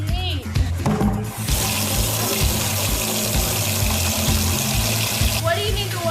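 Water runs from a tap to be mixed with plaster and sand, a steady splashing gush that starts after a second and pours continuously, with voices talking over it.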